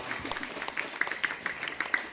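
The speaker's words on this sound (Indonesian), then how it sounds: "Tepuk tangan." Audience at a Sunday Wage Islamic religious gathering for orphan aid in Ciptodadi II, Sukakarya, clapping in a sparse, scattered round of applause that stays fairly faint.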